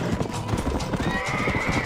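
Horses in the Red Dead Redemption video game, with a steady clatter of hooves and a whinny rising near the end, close and busy with faint voices mixed in.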